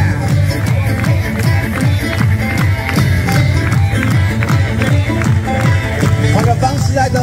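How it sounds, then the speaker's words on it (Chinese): Baseball fans at a Wei Chuan Dragons vs Fubon Guardians game at Tianmu Baseball Stadium clap in a steady, rhythmic beat while a cheerleading chant and music play loudly throughout. "手拍手拍手，快乐快乐。"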